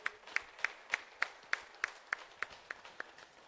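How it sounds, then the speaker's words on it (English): A group claps in steady, regular unison at the close of a yoga session, about a dozen sharp hand claps evenly spaced and gradually fading, with no talking. "bring your hands together and clap hands"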